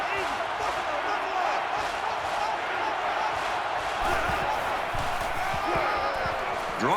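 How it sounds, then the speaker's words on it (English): Stadium crowd roar in the NCAA 14 college football game, Missouri at Florida, a steady dense wash of massed voices that holds loud and unbroken throughout, with faint swells and scattered bumps beneath it. "The crowd at this stadium, always a factor in a football game."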